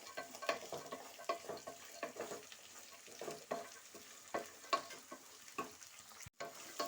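Pieces of dried coconut frying in oil for a rice khara bath, a soft continuous sizzle broken by regular scraping stirs, fairly quiet and close, with a short gap near the end and no voices.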